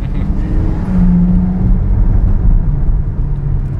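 A powerful sports car engine rumbles low and steady, swelling briefly as it revs, with a faint whirring tone riding on top.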